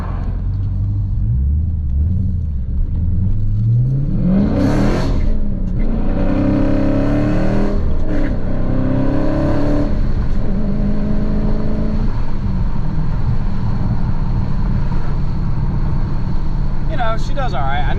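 A Dodge Challenger Scat Pack with a six-speed manual in sport mode, engine rumbling and revving as it accelerates through the gears. The exhaust is loud and steady from inside the cabin, with someone talking over it.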